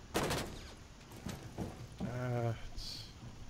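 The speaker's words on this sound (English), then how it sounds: "they got someone over there shooting through the wall" Gunfire comes through a wall in Rainbow Six Siege, a few sharp shots and a short burst, with a voice speaking in between.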